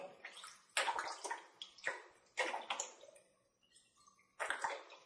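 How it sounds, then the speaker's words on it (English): Water pours from a bottle into the plastic container of a Kangen water unit in bursts of splashing, gurgling flow, with brief pauses between pours, close and fairly loud with no talk. "you just pour the whole bottle"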